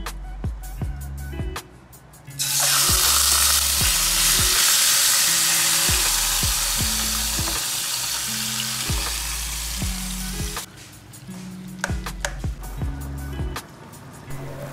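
Chicken adobo frying in a wok, a loud broad sizzle that erupts suddenly, holds steady for about eight seconds, then drops away, with faint background music tones throughout.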